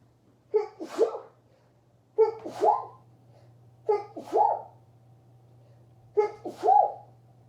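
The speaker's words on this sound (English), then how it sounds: "so intense it literally just made me sneeze" Four sneezes in a row, each a sharp breathy burst, evenly spaced and close, over a faint low hum.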